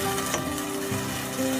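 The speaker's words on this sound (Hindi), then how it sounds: "प्याज में लहसुन अदरक का टेस्ट आने लगे, इसलिए इसको फ्राई करेंगे 2 से 3 मिनट तक" Onion, garlic and ginger fry in a pan for a white mutton karahi, giving a steady, close sizzle that holds evenly throughout with a few faint stirring clinks and no talk.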